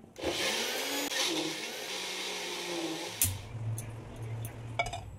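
A kitchen blender grinds chilli, onion, garlic, tomato and ridge gourd peel into a paste, a loud steady whirring roar that cuts out abruptly partway through, followed by lower rattling and clinking.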